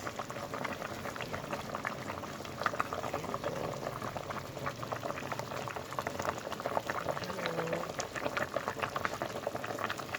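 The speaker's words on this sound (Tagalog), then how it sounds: "Ayan, kumulo na siya guys." Jackfruit and pork bone soup bubbles at a steady rolling boil in a pot, a continuous dense burble of popping bubbles that stays even and close throughout, with no talking.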